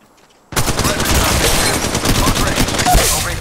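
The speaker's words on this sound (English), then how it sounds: "Shots fired and they're hitting me." Gunfire in Apex Legends Mobile: after a brief quiet moment, loud dense automatic shots burst in and continue as a rapid close fusillade to the end.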